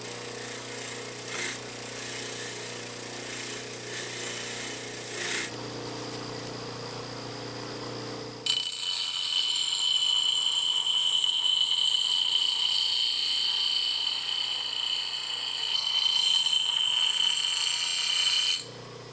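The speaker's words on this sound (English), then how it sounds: "I'm going to get some rust and corrosion off and put an edge on this axe" A power tool grinds rust and corrosion off an axe and sharpens its edge. A steady, loud whine runs throughout, shifting midway to a harsher, higher-pitched grinding of the metal.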